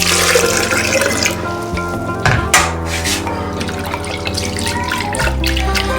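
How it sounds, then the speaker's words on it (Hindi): Water poured from a jug into a cooking pot of dal on the stove, a steady close splashing stream with gurgles and a brief louder slosh, no talking. "पानी मुझे कम लग रहा है, मैं पानी और डाल रही हूँ।"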